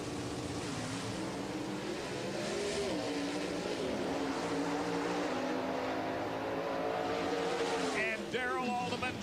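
Pro Stock drag race cars from the 1994 NHRA Winter Nationals launch hard down the strip, engines roaring loud and steady with rising revs and a sharp shift near the end, under faint commentary.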